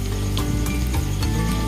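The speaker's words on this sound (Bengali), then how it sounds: "বড়া আমার হয়ে গেছে ভাজা" Masoor lentil fritters (bora) frying in hot oil in a pan, a steady dense sizzle with low bubbling and occasional faint clinks, close and alone without talk.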